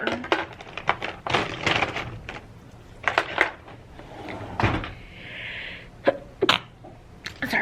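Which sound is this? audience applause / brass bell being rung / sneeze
sneeze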